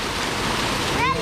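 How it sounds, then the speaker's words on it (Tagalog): Steady, loud rushing of a waterfall fills the scene with dense, continuous roar close by, with a brief voice-like sweep near the end. "So, ayun yung falls."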